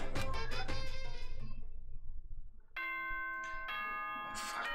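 Chime-style announcement jingle from the Danganronpa video game: a cluster of bright bell-like tones, a short fade, then a sustained harmonic chime, heard alone.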